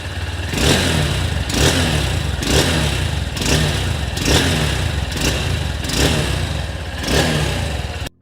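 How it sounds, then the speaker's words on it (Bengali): A Honda NX 200 adventure motorcycle revs repeatedly through its engine and exhaust, rising and falling in regular pulses over a steady idle, close and loud, with no voices. "এখন আপনাদেরকে বাইকের সাউন্ড এবং ইঞ্জিন সাউন্ডটা এবং এক্সস্ট সাউন্ডটা একটু শুনে দেখানোর চেষ্টা করি।"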